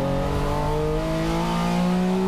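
A Huffaker-prepared MGB race car, number nine, runs in a vintage race, its engine holding a steady, loud drone with harmonics slowly rising as it pulls, continuous and close.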